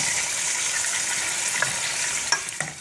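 Spices fry briefly in a pan of hot oil, giving a steady close sizzle with a few light clicks of stirring near the end.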